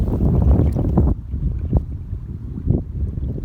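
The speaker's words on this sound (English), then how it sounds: "So it's actually too windy to be in the canoe right now" Wind gusts outdoors by a lake where canoe fishing is under way, buffeting the microphone in a loud rushing burst that eases into lighter, uneven gusts.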